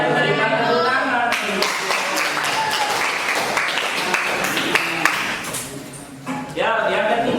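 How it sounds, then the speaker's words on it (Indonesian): Applause from an audience at a classroom presentation session, steady dense clapping with brief tonal sounds mixed in, continuing for several seconds with a short dip near the end. "Berikan tepuk tangan."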